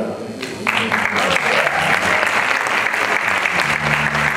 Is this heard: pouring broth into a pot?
no